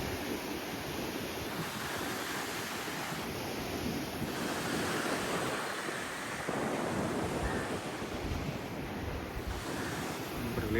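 Sea waves wash steadily onto a beach in Pondicherry, a continuous broad roar of surf mixed with gusts of wind buffeting the microphone.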